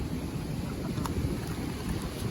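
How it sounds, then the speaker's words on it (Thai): Strong wind blows outdoors in a crowded place, a loud, steady roar of gusts buffeting the microphone, with no voices heard over it. "ลมแรงนะครับ"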